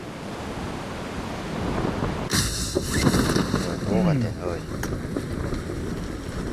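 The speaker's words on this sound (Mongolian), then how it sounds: "Бороо юм аа те." Rain in the PUBG Mobile battle royale game, a steady broadband hiss that swells in suddenly partway through and carries on under excited voices of players talking over it.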